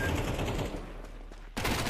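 Gunfire in Counter-Strike on the Dust 2 map: a rapid, dense stream of automatic shots, loud and close, briefly thinning before a fresh burst starts.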